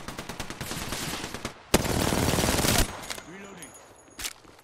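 Rapid gunfire rattles in the Apex Legends video game, a fast stream of close shots followed by a dense sustained burst, then a brief gap, a few electronic game tones and one last shot.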